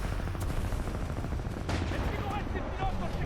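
Gunfire in the video game Titanfall 2 comes as a dense, continuous rattle of shots and blasts, loud and close throughout, with a sharper burst partway through.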